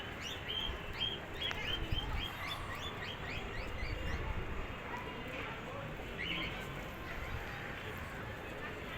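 Pigeons coo and chirp in a busy flock over steady rumbling background noise, with light scattered calls throughout.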